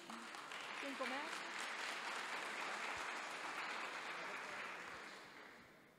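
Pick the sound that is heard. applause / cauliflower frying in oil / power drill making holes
applause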